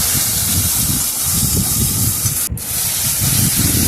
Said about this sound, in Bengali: দিয়ে ভালো করে আমি একটু কষিয়ে নেবো যতক্ষণ না মশলার দিকে তেলটা ছেড়ে যায়।